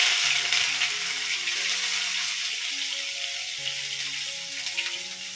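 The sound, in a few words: small onions (shallots) frying in oil after mustard splutters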